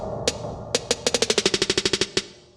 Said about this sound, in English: I did an impact and programmed a snare roll